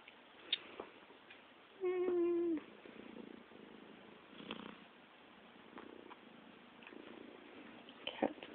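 A domestic cat purrs very quietly against a low room background, with a brief louder vocal trill partway through and faint scattered handling sounds.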